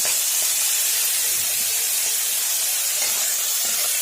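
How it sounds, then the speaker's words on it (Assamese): Soaked chickpeas frying in a little hot oil for an Assamese dhekia and chickpea stir-fry, a dense continuous hiss and crackle filling the whole stretch, close and steady with no voices. "মই এতিয়া প্ৰথমতে বুটখিনি ভাজি ল'ম"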